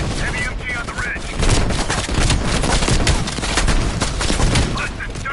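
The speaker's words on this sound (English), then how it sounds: "Hudson, heavy MG on the ridge." Heavy machine gun fire rattles in dense rapid bursts with booming impacts throughout a Call of Duty Cold War battle, loud and continuous with little pause.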